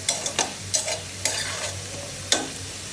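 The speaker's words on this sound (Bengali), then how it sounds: "আমি সেগুলো কিছুটা হলুদ আর লবণ দিয়ে সেটা ভেজে নিচ্ছি" Seeds frying in hot oil with turmeric and salt, a soft steady sizzle broken by several sharp scraping stirs of a spatula against the pan.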